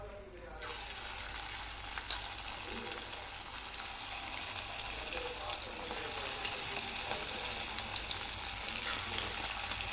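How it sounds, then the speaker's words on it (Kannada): Fenugreek bonda batter hits hot oil and fries with a steady, dense sizzle that starts abruptly and holds loud and close for the rest of the stretch, with faint speech-like murmur underneath. "ಎಣ್ಣೆ ಕಾದಿದೆ. ಇದರಲ್ಲಿ ಬಿಡೋಣ."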